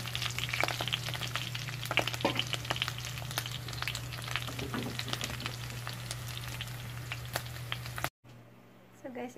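Onion and garlic fry in oil for a pork humba dish, giving a close, crackling sizzle with stirring sounds over a steady low hum. The sound drops out briefly near the end.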